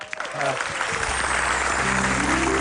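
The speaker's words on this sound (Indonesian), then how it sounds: "Tepuk tangan dulu lah." Studio audience applause on an Indonesian comedy talk show fills the room loudly and steadily, with a voice speaking briefly underneath near the start.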